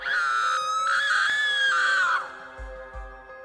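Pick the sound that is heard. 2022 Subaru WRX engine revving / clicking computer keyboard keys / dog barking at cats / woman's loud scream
woman's loud scream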